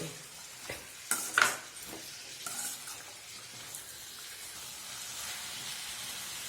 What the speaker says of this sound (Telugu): ఒకసారి ఈ బీట్రూట్ని అంతా ఇలా కలుపుకోండి